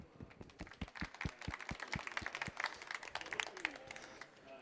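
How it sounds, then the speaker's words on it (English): Audience clapping for a speaker at an enterprise mobility and security talk, a steady patter of hands that starts with a few distinct claps and fills in, moderately near, with a faint murmur underneath. "So a round of applause for Alan Giles"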